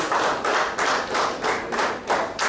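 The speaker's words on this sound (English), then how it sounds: "I think he deserves another big round of applause." Applause at a Sri Lankan premier league cricket player auction, a steady crowd of hands clapping in roughly regular surges for about two and a half seconds, moderately distant and with no talk over it.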